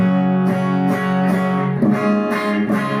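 Electric guitar played through only a compressor pedal gives a clean, even tone: sustained chords are struck about every half second in a steady rhythm, close and fairly loud, with no voices.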